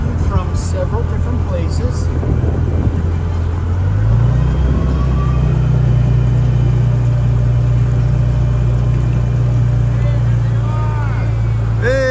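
An amphibious boat cruises across the water with a loud, steady low engine drone, which shifts up to a higher, fuller hum partway through and then holds.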